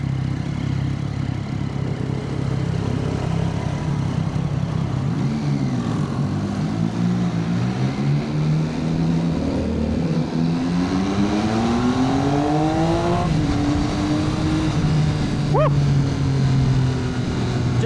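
A motorbike rides through the streets of Chiang Mai's Old City in Thailand, its engine droning steadily close by and rising and falling in pitch as it speeds up, with constant road and traffic noise around it and no talk.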